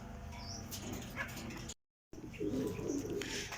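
Racing pigeons coo softly in a loft, low murmuring calls close by against a faint background, broken by a short gap of silence midway.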